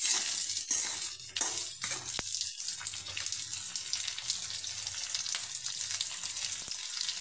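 Mutton pieces sizzle and crackle loudly in a pan of lightly browned chilli and onion, a steady close frying hiss broken by a few brief stirring scrapes and clinks.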